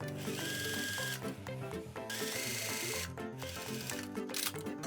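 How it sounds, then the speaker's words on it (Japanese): A sewing machine runs continuously at close range, stitching the edge of a triple-folded hem on children's pants sewn from a 50 cm length of fabric, its steady mechanical whir rising and pausing briefly with no talk. "ここの際をステッチで留めていきます"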